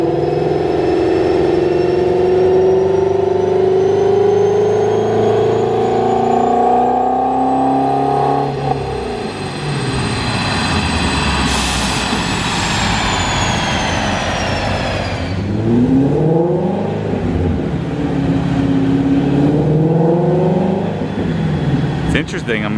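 A Ford Mustang GT350 with an ARH exhaust, JLT intake and Lund tune revs hard on a dyno, climbing to a high wail, dropping, then rising again, loud and close.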